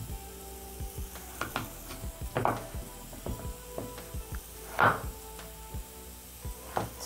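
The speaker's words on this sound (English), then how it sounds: "Next, I'm going to chop my potatoes." Carrots sauté in a pan with a faint steady sizzle while a knife chops potatoes on a board, producing irregular knocks and thuds spread through the stretch, close and fairly quiet, no talking.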